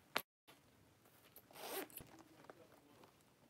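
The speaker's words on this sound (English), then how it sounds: "Zipper." Zipper on a designer leather crossbody bag being pulled open: a short sharp tug, then a longer rasping zip run lasting about half a second, close and clear, with a few small handling clicks after.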